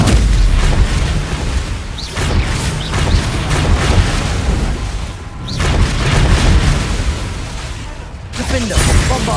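Explosive spells cast in Hogwarts Legacy blast in a dense, loud barrage, with booming bursts layered over one another without pause, and a voice speaks partly buried beneath them.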